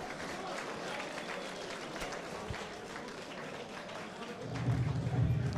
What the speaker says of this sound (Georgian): ტაშით შემეგებო ჩვენი სტუმარი უკრაინიდან